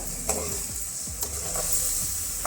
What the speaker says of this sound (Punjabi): ਹਲਦੀ ਪਾ ਕੇ ਆਪਾਂ ਇਹਨਾਂ ਨੂੰ ਮਿਕਸ ਕਰ ਦੇਵਾਂਗੇ